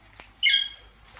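An Indian green parrot at a backyard parrot farm lets out a single short, harsh squawk close by, preceded by a faint click and quiet surroundings.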